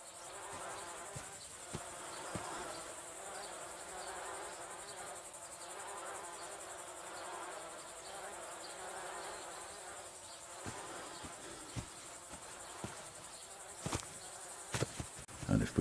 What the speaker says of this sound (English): down here we have a row of beehives, the bees busily making the best of all these lovely flowers